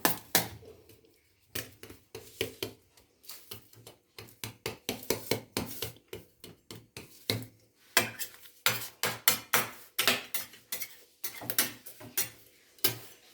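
A spoon or utensil spreads besan barfi mixture across a metal tray, giving many quick taps, knocks and scrapes in an irregular rhythm, close and fairly quiet.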